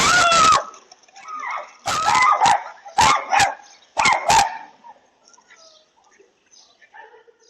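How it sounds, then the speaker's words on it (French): A small dog named Ellie barks at a big bear near a house, with sharp, loud yipping barks in several bursts, then fainter intermittent yips trailing off. "Lorsqu'un gros ours s'est approché de la maison, la petite Ellie s'est transformée en un redoutable chien de garde"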